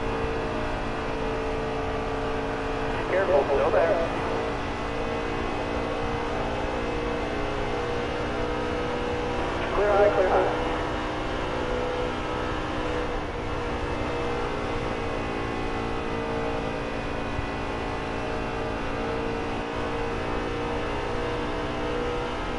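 Race cars in a video game run the Carnation Cup at Charlotte in a tight three-car train, producing a steady droning engine note with two brief louder revving swells as the pack moves.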